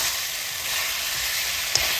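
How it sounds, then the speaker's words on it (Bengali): Chicken fries with coriander in a hot pan for an Assamese chicken with koldil dish, a loud, continuous hiss of sizzling oil, close and steady, with one small pop near the end. "মাংসখিনি ধুনিয়াকে ভাজি ললো।"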